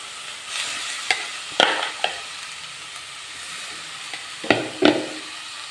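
A bitter gourd, grated coconut and fish mixture hits a pan of popped mustard seeds and is stirred, giving a soft steady sizzle broken by several sharp scrapes and clatters of the spoon. No one speaks.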